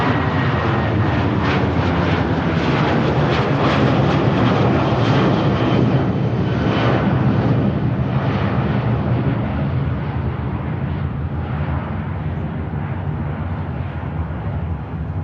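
An airliner takes off and climbs away at Manchester Airport, its engines a loud, continuous broadband roar that holds steady throughout and fades only slightly toward the end.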